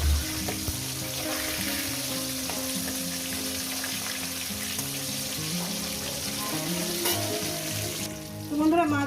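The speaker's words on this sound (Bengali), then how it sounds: "এবার ভুনা এই পিঠটা এইভাবে লাল লাল করে ভেজে নেবো" Fish pieces sizzle steadily in hot oil, being browned on one side, with a continuous crackling fry under faint kitchen clatter; a brief louder stir or flip comes near the end.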